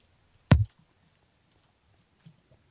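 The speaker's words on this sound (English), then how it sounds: "I'm right-clicking." A single sharp computer mouse click, close and crisp, followed by a faint second tick about two seconds later in an otherwise quiet room during Minecraft play.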